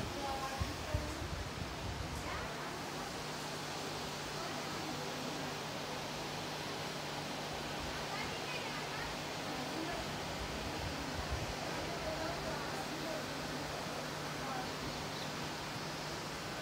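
The Ravi river flowing in a steep mountain valley near a Shiva temple, heard as a steady broadband rush of water, constant and moderately faint, with no talk over it.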